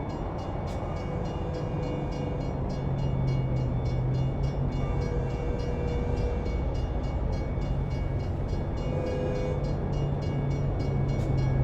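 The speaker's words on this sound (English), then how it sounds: "Looks like an Amtrak is about to come through here." An Amtrak passenger train in American Truck Simulator rumbles past as a steady, loud roar of wheels and cars, with a brief horn tone and the drone continuing throughout without talk.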